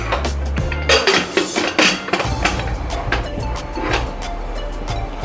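Metal spoon scraping and clinking against a pot as fada lapsi (cracked wheat) is stirred over a gas flame, a quick run of sharp knocks and scrapes up close, with no voices.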